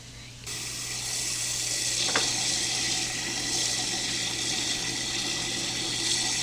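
Peeled, cut potatoes rinsed under a running kitchen tap, giving a steady, fairly close rush of water that starts abruptly and continues evenly, with a faint clink partway through.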